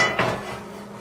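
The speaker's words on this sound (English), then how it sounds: "I'm going to be using a cast iron skillet" A cast iron skillet is set down on a gas stove grate, giving one short metallic clunk that rings out and fades over the next second.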